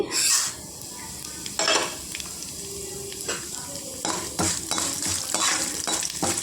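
Split black gram stirred and fried in a pan for Andhra-style gongura chutney, with loud scraping strokes of a spoon against the pan over a continuous sizzle, several stirring bursts in uneven rhythm.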